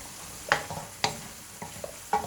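Mushrooms being stir-fried in a pan with a spatula, giving a few sharp scraping stirs at uneven intervals over a soft background sizzle, close and moderately loud.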